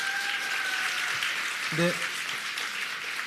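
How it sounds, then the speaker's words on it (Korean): Audience applause at a Korean book concert for a former presidential aide, a steady wash of clapping with a brief spoken word cutting in partway through. "이 시점에서 박수 한번 쳐주시면 안 될까요?"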